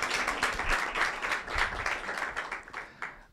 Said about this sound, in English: That is your applause.